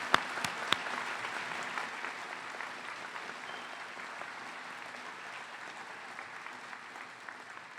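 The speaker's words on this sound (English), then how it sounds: "We would like to give all of you our hearty applause." A large audience at a college commencement ceremony applauds steadily, a dense, even wash of clapping that holds for several seconds before easing slightly.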